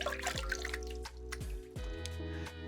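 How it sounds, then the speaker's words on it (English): Water running and splashing in a bathroom sink while face wash is rinsed off, with faint, irregular drips and trickles, close but quiet. "So I'm just rinsing off my face wash right now"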